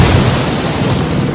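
A frag grenade explosion in the Ghost Recon Wildlands video game: a brief, loud, noisy rumble with no clear attack, close and filling the whole short moment.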